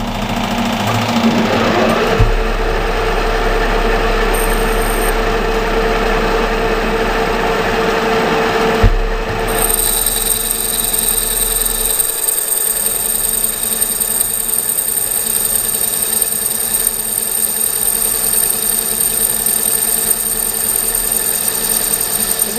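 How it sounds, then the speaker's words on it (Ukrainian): A metal lathe turns a bronze bushing for a Ural motorcycle cover, the outer surface being rough-cut after boring: a loud, steady mechanical drone and whine running continuously, with a short tonal shift partway through and no talk. "нашу бронзу вже розточив середину з припуском 2 мм і обдираємо зверху"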